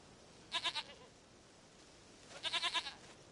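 A goat bleats in The Witcher III: Wild Hunt, two short wavering calls, each a quick series of pulses, separated by a pause over quiet background.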